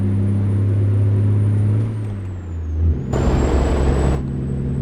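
A heavy truck in American Truck Simulator idles with a low engine drone, then a sharp air-brake hiss bursts out as the engine revs up for a hard pull away.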